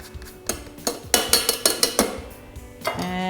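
A Thermomix chopping charred white beans for hummus gives a close run of about eight sharp, clattering knocks in quick succession, with a brief lull before a final rattle and a low hum.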